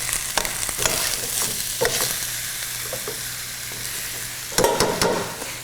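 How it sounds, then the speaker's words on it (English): Turkey and butternut squash stirred in a sizzling pan, with repeated sharp scraping and clattering strokes of a utensil over a steady close fry, with no talking. "I'm going to stir this up"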